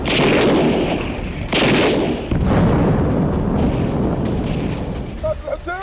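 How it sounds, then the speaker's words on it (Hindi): Rockets fired by Hezbollah at towers and a command centre on the Israel border, heard as a sustained loud roaring blast with repeated heavy bursts that slowly trail off, with faint talk near the end. "इस वीडियो में हिजबुल्लाह इजराइल बॉर्डर पर लगे टावर और कमांड सेंटर पर रॉकेट दागता दिख रहा है"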